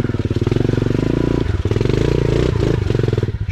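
A mini motorcycle on a trail idles loudly and close with a rapid rough putter, the engine note dipping and recovering as it sputters and threatens to stall.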